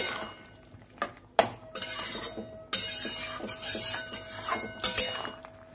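A spoon stirring an elephant foot yam and prawn curry with clove, cinnamon and sugar in a pan, producing irregular clinks and knocks against the metal with scraping between them, fairly close and moderately loud.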